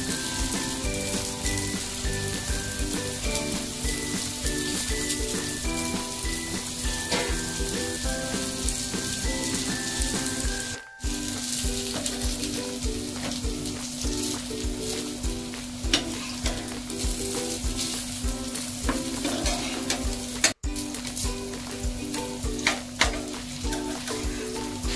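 Pieces of kothimbir vadi, a coriander snack, fry steadily in hot oil, giving a dense, continuous sizzle and crackle that stays loud and close throughout with no talking.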